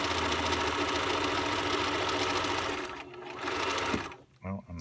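A home sewing machine runs a seam in one steady, loud mechanical whir for about four seconds, then stops, followed by a brief quieter burst and a few short clicks and handling sounds.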